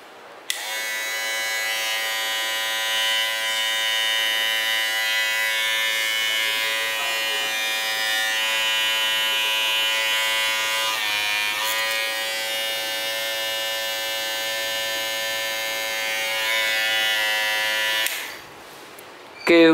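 A Magic hair clipper fitted with a replacement blade runs loudly and steadily for about seventeen seconds, a continuous high buzzing whine that cuts off abruptly at the end, with no talking over it.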